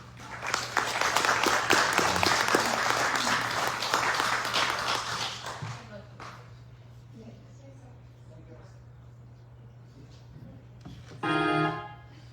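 An audience applauds a singer at a community event, loud clapping for about six seconds that fades to sparse claps under quiet talk, then a brief burst of sound near the end.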